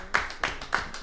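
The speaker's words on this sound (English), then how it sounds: "Let's get some applause." Hands clapping for a live radio broadcast, three or four distinct claps at an even pace, close and fairly loud, with a faint voice underneath.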